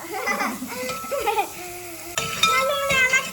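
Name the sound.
stirring onions frying in a pan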